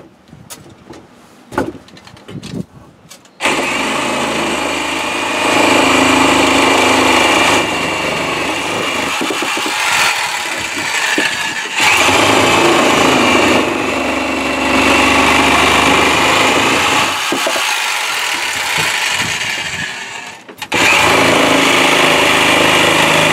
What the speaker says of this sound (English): I do have my my Sawzall, big wood blade on it.